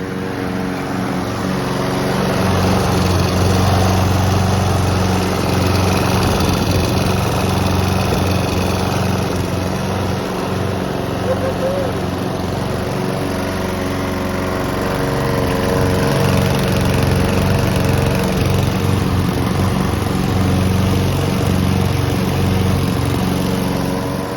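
A Honda lawn mower engine runs steadily nearby, a constant droning putter with a slight wavering in its pitch, no voices.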